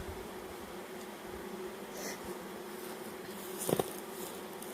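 Honey bees from a package buzz steadily while being shaken into their new hive, a continuous near drone with a brief louder burst near the end.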